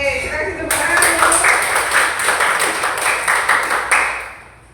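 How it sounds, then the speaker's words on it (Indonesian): Classroom applause from a group of students after a Christian religious education presentation in an Indonesian class, steady overlapping hand claps lasting several seconds before tapering off. "Oke, kita kasih tepuk tangan."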